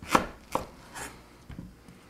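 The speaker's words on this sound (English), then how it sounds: "I'm going to slice our pumpkin into wedges" A pumpkin is sliced into wedges with a knife, giving about five separate close-up cuts and thunks against a cutting board, the first loudest, at an uneven pace.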